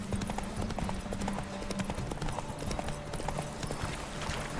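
Horse hooves clip-clop in a steady galloping rhythm in The Witcher 3: Wild Hunt, close and continuous under a faint whinny, with no talk over it.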